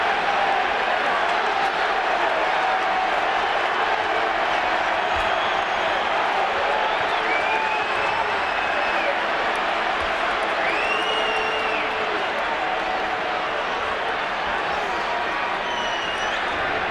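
A baseball crowd roars and cheers steadily while manager Bobby Cox argues with the umpire, a dense, distant wall of noise with whoops rising above it and announcers talking throughout.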